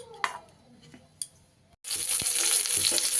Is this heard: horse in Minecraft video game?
no